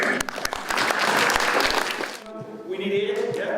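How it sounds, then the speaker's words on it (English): Audience applause at a science event bursts out with sharp claps for about two seconds, then dies away as a voice begins talking. "some round of applause"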